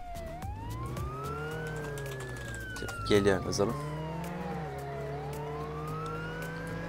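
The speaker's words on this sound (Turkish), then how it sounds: "Sirenleri takalım." Police car siren in the Roblox Jailbreak video game, a loud continuous wailing tone that rises and falls steadily throughout, with someone talking over it and a burst of clatter midway.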